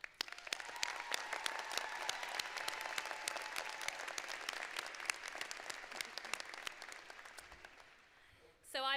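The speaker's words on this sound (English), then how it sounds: "they also deserve a huge round of applause" Commencement audience at a law school ceremony applauding, a sustained dense wash of many hands clapping from a large crowd that fades slightly near the end before a voice cuts in.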